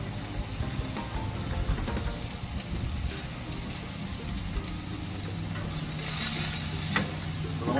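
Bologna frying on a hot griddle alongside burgers, a steady crackling sizzle throughout with occasional scraping stirs, close and moderately loud, swelling slightly toward the end.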